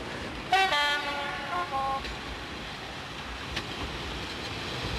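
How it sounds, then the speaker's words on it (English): A train horn sounds a short harmonic blast, then rail noise rumbles steadily in the background with a faint clank. "this particular train we're waiting for at the moment"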